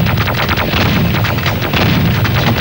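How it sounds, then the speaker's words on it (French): Gunfire in Quake III on the Dreamcast: dense, loud rapid bursts of shots and blasts that fill the whole stretch without a break, harsh and booming with no voices. "Et je lui ai tiré dessus alors qu'il me parlait."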